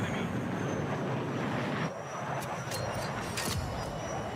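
A plane flies overhead in the video game Battlefield 6, a steady loud engine roar filling the whole clip with a slight shift midway, mixed with brief sharp game effects near the end.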